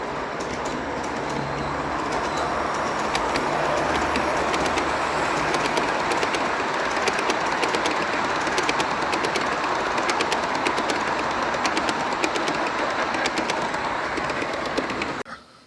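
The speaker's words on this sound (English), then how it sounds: "The train coming, so let's take a look at that." G scale model train rolling along a show layout at a large-scale train show, a steady dense rumble and clatter of wheels on track close by, continuous and fairly loud, with faint chirps in the background.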